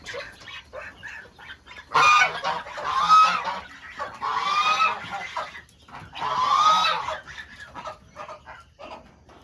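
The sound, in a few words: baby goose honking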